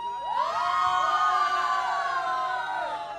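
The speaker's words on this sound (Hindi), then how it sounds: "एक बार जोरदार तालियां हो जाए इन सभी के लिए" Crowd at a wedding sangeet night cheering and whooping for the performers, loud sustained shouts and cheers from many voices with scattered clapping underneath.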